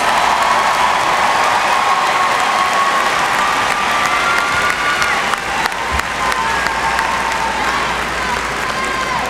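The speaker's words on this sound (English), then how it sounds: "Let's give them a round of applause." Applause for high school graduates at a West Florence High School graduation ceremony, a sustained crowd clapping with some cheering mixed in, steady and fairly loud throughout with a continuous tone running underneath.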